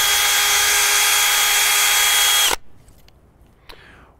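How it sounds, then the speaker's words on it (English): Power drill boring a tap hole into a tree trunk to collect sap, a loud steady whine for about two and a half seconds that stops abruptly, followed by quieter faint handling sounds. "when I'm drilling a hole in this tree, I'll angle the hole slightly downwards"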